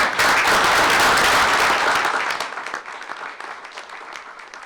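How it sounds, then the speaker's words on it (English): A board meeting audience applauds a group of scouts, starting with a loud, dense burst of clapping that thins out halfway through into scattered, fading claps. "Let's give them a round of applause."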